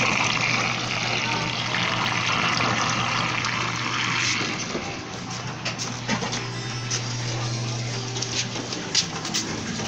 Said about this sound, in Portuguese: E começa a drenar a água.